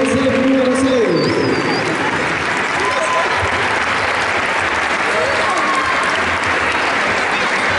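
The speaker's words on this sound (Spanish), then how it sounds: "Renovamos ese aplauso para la escuela de fútbol del CEF número 6." Families and teachers applaud a children's football school at a year-end sports program closing ceremony in Zapala, a steady dense clapping that fills the whole stretch, with faint chatter and a few bird calls in the background.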